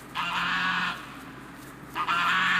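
Geese honk in two loud, nasal, drawn-out calls close by, each lasting most of a second with a short quiet gap between them, with no voices.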